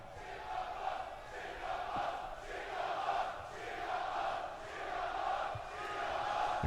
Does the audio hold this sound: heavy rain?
no